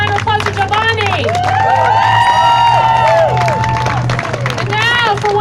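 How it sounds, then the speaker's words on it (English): Crowd at a Walkaway rally in Baltimore cheering, whooping and clapping for Jovani Patterson, a dense continuous roar with high shouts and whistles over a steady low hum. "Another round of applause for Jovani."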